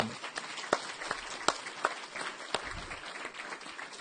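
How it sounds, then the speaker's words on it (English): An audience at a school board meeting gives a round of applause for high school students: scattered, moderately faint clapping with a few sharper individual claps that rise above the rest, steady for about four seconds. "Let's give them one more round of applause, the students here."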